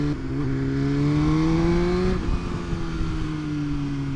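BMW HP4 Race superbike engine revving hard in first gear on a launch, a loud, close, steady high-pitched drone whose pitch climbs, dips briefly, then holds high, with no talking.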